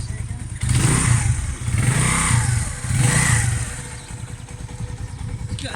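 Lexmoto motorcycle engine revving after a cold start, three distinct throttle blips rising from a clattery idle, close and fairly loud, with no talking over it.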